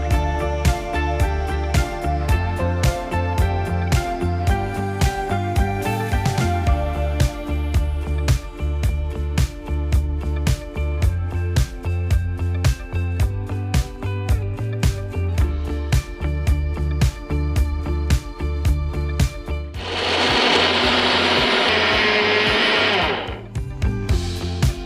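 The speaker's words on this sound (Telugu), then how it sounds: "నెక్స్ట్ ఇంకా మనం స్టవ్ ఆఫ్ చేసి దాన్ని మిక్సీ పట్టేయాలి." An electric mixer grinder grinds a fried apple and dry fruit mixture. A loud motor whine comes in repeated pulses, ending in a short burst of rattling grind near the end, with no voices.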